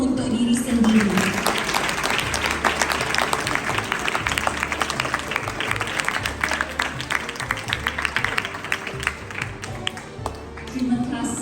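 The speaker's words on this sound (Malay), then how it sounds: "berikan tepukan yang paling gemuruh untuk diri sendiri." Students at a school closing ceremony give themselves a long round of applause, many hands clapping in a dense, sustained roar, with faint voices at the start and end.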